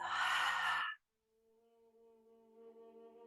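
A breath blown out through the mouth during a breathwork meditation, a loud breathy exhale lasting about a second, followed by quiet and soft tonal background sound.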